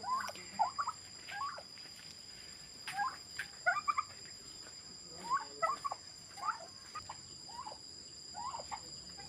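Domestic turkeys, a large breed weighing five kilograms or more, give repeated short gobbling calls in bursts over about nine seconds, moderately near, over steady background hum, with no voices.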